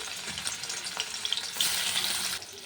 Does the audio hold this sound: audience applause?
no